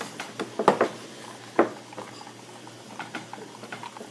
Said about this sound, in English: So you just want to mix the crap out of it.